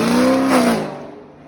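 A Camaro drives by on a San Francisco street, its engine tone loud and close at first, then fading quickly as it moves away.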